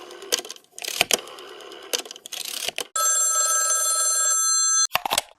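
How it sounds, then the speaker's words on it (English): A telephone rings as a radio drama effect: a steady sustained electric bell ring lasting about two seconds, set between brief clicks and handling noises, with no talk over it. "Ringing the police department."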